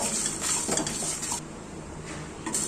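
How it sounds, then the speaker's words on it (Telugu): Kasuri methi being stirred into frying spices in a kadai: a spoon scrapes and clinks against the metal pan over a soft sizzle in a short burst. "ఇప్పుడు కస్తూరి మేతి వేసి ఒక్కసారి కలిపేసి ఆఫ్ చేసేద్దాం"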